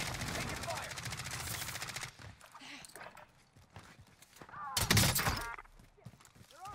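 Call of Duty Warzone gunfire: rapid automatic bursts at the start, then scattered shots and a loud nearby volley, with voices talking over parts of it.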